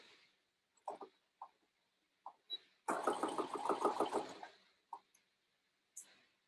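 A sewing machine back stitches at the start of a seam on a small child's dress sleeve near the armhole, giving a loud, steady whirring run of about a second and a half, framed by scattered soft clicks and fabric handling.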